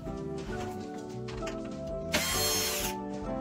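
A power tool whirs in short, geared bursts close by as it loosens screws on an AEG tumble dryer, and a sharp, louder burst of rattling comes near the end.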